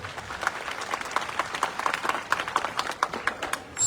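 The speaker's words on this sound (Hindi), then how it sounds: "तालियां कम बज रही है।" An audience at a devotional satsang quiz gathering claps in a thin, uneven patter of scattered hands, moderately quiet and fairly brief.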